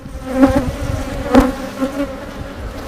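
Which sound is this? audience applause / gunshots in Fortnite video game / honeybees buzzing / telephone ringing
honeybees buzzing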